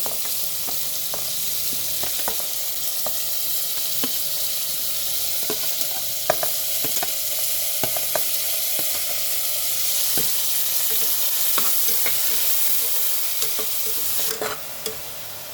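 Onions and green chillies fry in a hot pan for a taro root curry, a steady broadband sizzle running throughout with frequent sharp clinks and scrapes of a stirring spoon; no voices.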